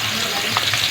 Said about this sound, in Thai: ทอดกินหมูของเฮา